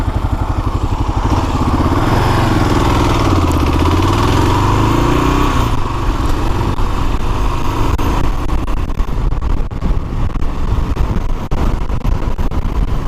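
A 2006 Kawasaki KLR 650 single-cylinder motorcycle rides steadily on a road tour around Thunder Bay, its engine droning loud and close with continuous wind noise and no talking.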